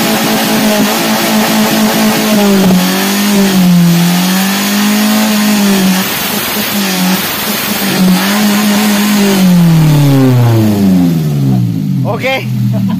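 A Daihatsu Gran Max with a blocked catalytic converter runs rough and shakes its exhaust, its engine revving up and down repeatedly, loud and close, with a wavering, uneven drone throughout.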